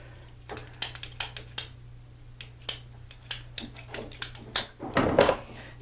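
Hand cutter working through CPVC pipe for washing machine water lines, a series of small close clicks and ratcheting snaps that build to a louder crunch as the pipe parts.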